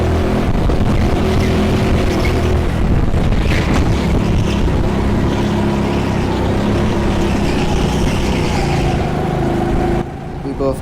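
Go-karts racing around an indoor track at TeamSport Sheffield, with a continuous loud, buzzing engine drone and wind rush close to the microphone throughout, easing slightly near the end.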